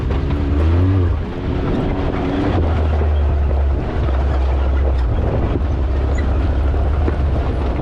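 A Can-Am X3 side-by-side drives through snow alongside Jeeps, its engine droning loud and steady throughout with a rising pitch sweep early on, heavy wind buffeting the microphone.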